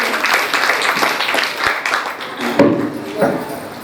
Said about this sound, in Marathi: त्यांच्यासाठी जोरात टाळ्या होतो